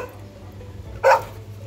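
A dog gives one sharp, loud bark at a garbage can that fell over, standing alone against a quiet indoor background.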